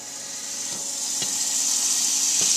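Six tablespoons of butter sizzling in a pan on a stove at medium heat, a steady soft hiss with a few faint clicks, no voices.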